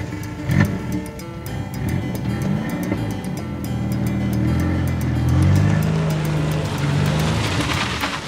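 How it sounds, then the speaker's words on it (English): A silver classic car drives by with a rising engine hum and tyre roar, growing louder and swelling past at close range, alone with no speech. "Silver, classic car."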